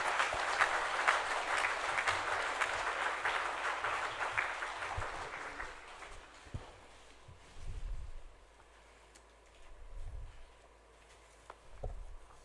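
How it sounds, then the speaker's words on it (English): A conference audience at a corporate conclave applauds a speaker called to the dais, with dense clapping that gradually fades into quiet room noise and a few low thumps. "A big round of applause for CMD SJVN Shri Nand Lal Sharma"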